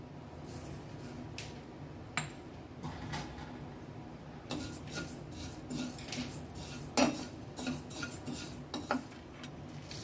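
Whole spices for vegetable khichdi (coriander seeds, cumin, fennel and dried red chillies) dry-roasting in a pan, with repeated scraping and clinking of a spoon against the metal over a steady low background, no talking.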